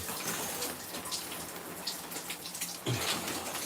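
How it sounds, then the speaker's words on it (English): Warm water from a shower spraying steadily, a dense, continuous hiss of falling water nearby, with a brief bump of handling near the end. "I'm going to take a shower in the warm water"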